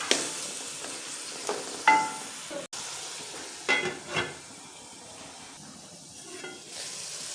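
Tomatoes softening in a hot pan for aloo palak, a soft continuous sizzle broken by several scraping stirs and a sharp utensil clack, close and moderately quiet.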